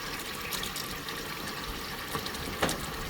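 Hot water pours steadily from a tap while a dog hair scarf is refilled for rinsing, a constant close gushing hiss with a couple of brief splashes near the end.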